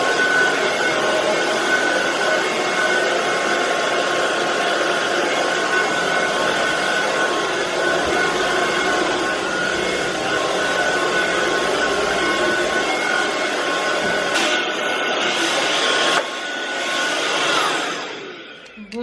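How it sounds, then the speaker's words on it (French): A cordless vacuum cleaner runs in automatic mode indoors with a loud, steady motor whine and rushing airflow. The pitch shifts briefly near the end before the sound drops away. "on va tester l'aspirateur ensemble"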